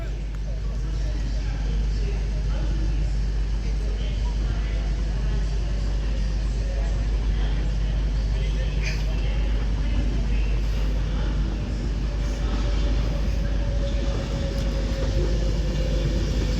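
An Avanti West Coast Pendolino from London Euston to Manchester Piccadilly pulls into Crewe station, a steady low rumble and rolling hum throughout with a faint rising whine near the end.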